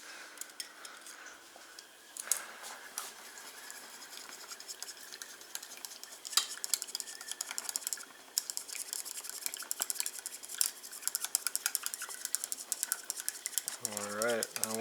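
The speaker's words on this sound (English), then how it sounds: "I'm just going to mix it with some chopsticks." Chopsticks clinking and scraping against a bowl while sauce is stirred with hot water, a steady rapid ticking close up, with brief talk near the end.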